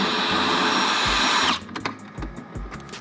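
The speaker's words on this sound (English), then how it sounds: "you want to back off these screws that start about here." A power drill backs out the fender well screws on a Ford F-150, whirring loudly and steadily for about a second and a half, then stopping. Several soft, close clicks and knocks of handling follow.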